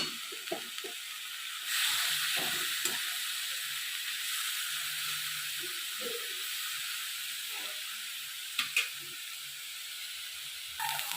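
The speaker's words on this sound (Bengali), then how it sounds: "বেশি ভাজবো না হালকা করে মাছগুলো ভাজবো" Prawns frying lightly in a pan give a steady soft hiss and sizzle, with a few faint clicks and scrapes scattered throughout and no speech.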